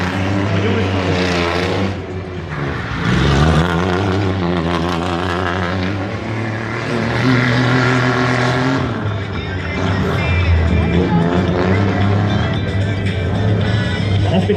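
A rally race car's engine at the start of a stage, loud and close, revving and rising in pitch through repeated gear changes and accelerations, with a commentator talking over it.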